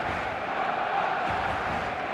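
A stadium crowd roars in a steady, dense wash of cheering and chanting during an eFootball match, filling the whole clip at constant loudness.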